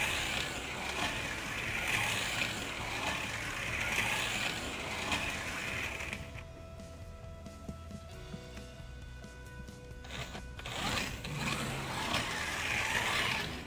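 Scalextric slot car, a 1986 Chevy Monte Carlo No. 69, running laps on a track with a steady whirring motor and ratcheting rattle, rising and falling as it passes, no talk.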